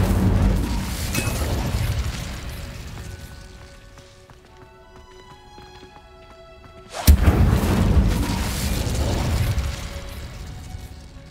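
Incendio fire spell cast in Hogwarts Legacy, a sudden loud whooshing burst that erupts after a quiet, tonal lull and then roars on as sustained crackling flame, close and full.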